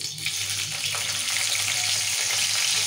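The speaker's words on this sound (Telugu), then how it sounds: "ఈ నూనెలో ఇక మిరపకాయలు వేస్తాం." Chillies frying in hot oil make a loud, steady hiss and sizzle that stays even from start to finish, with no talking.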